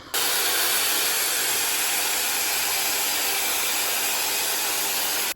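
A hair dryer blows a steady, loud, broadband rushing hiss for about five seconds while drying chemically straightened hair after an at-home keratin treatment, starting and stopping abruptly with no talking.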